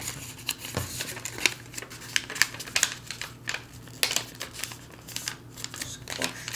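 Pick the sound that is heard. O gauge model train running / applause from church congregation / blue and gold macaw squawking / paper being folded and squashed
paper being folded and squashed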